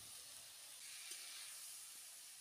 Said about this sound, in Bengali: কড়াইতে না তেল দিয়ে পেঁয়াজ পড়তে রসুনগুলো না ভাজে নাও।